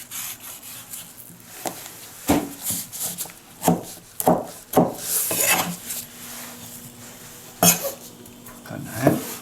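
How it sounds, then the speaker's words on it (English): A knife slicing around the large central seed of an exotic fruit during fruit salad preparation, heard as close, irregular scraping cuts and sharp knocks against a board and dish, with no talking. "he's slicing around the big middle seed there"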